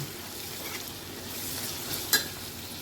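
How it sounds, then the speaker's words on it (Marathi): Dried shrimp with turmeric sauté in a pan, a soft continuous sizzle with a light stir and one brief sharp clink of a utensil against the pan. "याला परत एकदा आपण व्यवस्थित परतून घेऊ"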